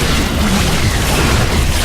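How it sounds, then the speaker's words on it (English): In StarCraft 2, Nidus worms are destroyed in a loud, sustained explosive rumble, a dense, roaring boom that stays heavy and unbroken without any speech. "Zeratul has destroyed their worms."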